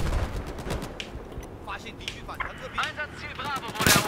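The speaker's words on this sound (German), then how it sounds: "Da snipert mich einer an." Gunfire in the video game Battlefield 4 on the Golmud Railway conquest map, sharp shots and bursts scattered through the clip with a loud crack near the end, mixed with game noise and a voice talking.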